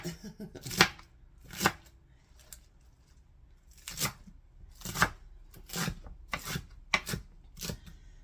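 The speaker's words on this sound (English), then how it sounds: "I'm going to chop mine into little pieces so it's easier for me to eat" A knife chops turkey BLT sandwich ingredients into little pieces on a cutting board, giving about eight sharp, separate chops at an uneven pace. The chops sound close and clear, with no voice over them.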